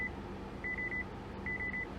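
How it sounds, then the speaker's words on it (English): A 2019 Honda Accord 2.0T Sport infotainment screen gives sharp, piercing warning beeps in two quick bursts of about three tones each, clear and close over a quiet cabin hum. "Those are just 3 kind of sharp, piercing beeps"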